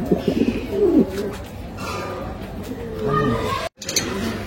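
A Rampuri pigeon held in the hand coos in soft, throaty bursts, close up, while someone talks alongside.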